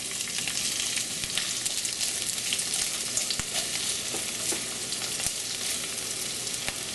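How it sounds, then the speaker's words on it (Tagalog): Onion sizzles steadily in hot cooking oil for ginataang tilapia, a dense, even frying crackle with small popping spatters, close and continuous throughout with no voices. "pwede na nating igisa yung sibuyas, yung bawang at yung luya"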